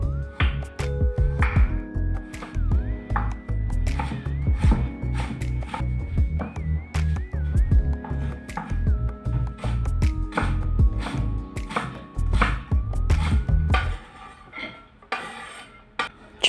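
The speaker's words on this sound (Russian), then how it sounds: "Также средним кубиком нарезать морковь." A knife chops a carrot into medium cubes on a board, giving a fast, steady run of sharp cutting taps over continuous background music, which thins out near the end.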